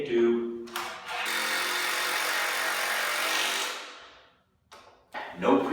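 A power drill drives screws into wood while a workbench is being built, giving a steady whirring run of about three seconds between short bursts, with brief quiet gaps and a faint clatter at the end.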